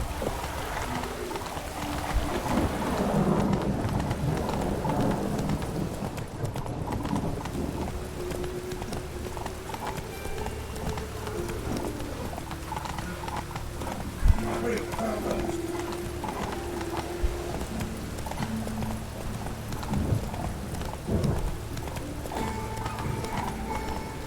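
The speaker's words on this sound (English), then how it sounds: "Whoa there, Roach" Horse hooves gallop in The Witcher 3, a fast, steady clip-clop running throughout under game ambience and music, with a faint whinny, while someone speaks over the action.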